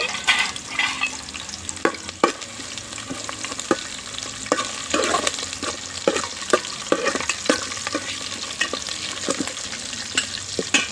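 Spices being stirred into onions frying in a pan, with repeated scraping strokes of a spoon over a constant close sizzle, no voices.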